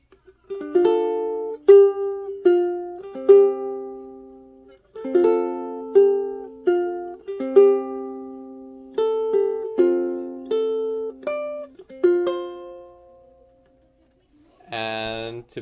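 Slow fingerstyle ukulele playing the next bar of the lullaby Slumber My Darling, clear plucked notes in gentle phrases with brief pauses, ending on a short strum.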